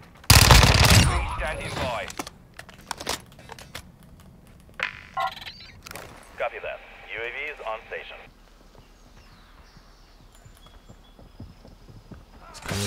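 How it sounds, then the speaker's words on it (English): First-person Modern Warfare 2 match with a Fennec 45 submachine gun: a loud, rapid burst of automatic fire opens, followed by scattered shots and game effects while players talk. "Fastest killing SMG ever."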